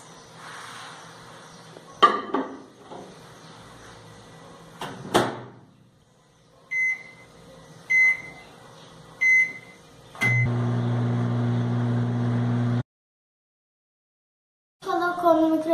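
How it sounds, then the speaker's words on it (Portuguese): Microwave oven heating brigadeiro, a chocolate fudge sweet: clicks and a door shutting, a few short beeps, then a steady low hum for a couple of seconds before stopping, with faint speech earlier. "Agora a gente leva para o micro-ondas por mais 2 minutos."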